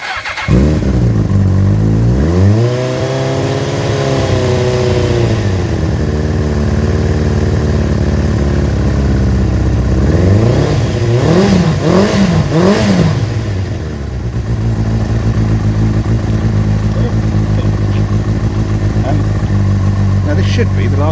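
Kawasaki ZX6R motorcycle engine starting from cold: it fires up loud and close, settles into a high idle, then revs in several quick blips before dropping back to a steady idle.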